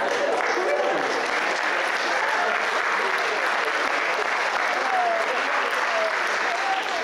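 Steady, dense audience applause fills an awards event hall at a sports hall of fame ceremony, loud and continuous throughout with scattered voices in the crowd.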